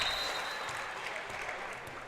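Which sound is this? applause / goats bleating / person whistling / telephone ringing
applause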